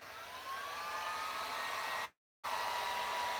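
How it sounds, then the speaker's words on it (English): A blowtorch flame played over a resin ocean-scene artwork gives a steady, loud, close rushing hiss that cuts out briefly partway through, then resumes at full strength. "just going to get my blowtorch"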